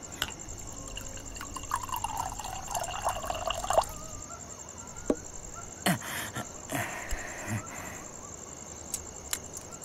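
Liquor trickles and drips into a glass in short, uneven bursts over a faint background, with scattered clinks and splashes.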